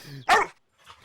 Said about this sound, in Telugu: ఈ కుక్క కరుస్తుందా?